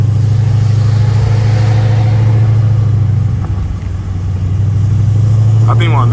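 Dodge Charger SRT with a Hemi V8, heard from inside while driving after a blizzard: a steady, loud low engine drone runs throughout, with a brief dip partway through and a person talking over it.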